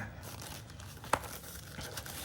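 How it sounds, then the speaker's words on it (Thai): Plastic bag around a Keychron K8 keyboard being opened, heard as a soft ongoing crinkle with one sharp tearing snap about midway, faint and close with no talking. "มาในถุงนะครับเปิดถุงออกมา"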